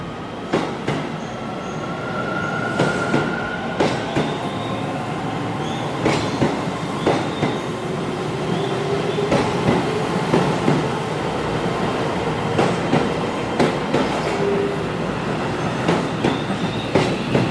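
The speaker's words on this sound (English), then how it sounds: "the train for this line is here" An eight-car Tokyo train arrives at a station, rolling in steadily with rhythmic clickety-clack of wheels over rail joints, faint squeals and brake hiss, loud and close throughout.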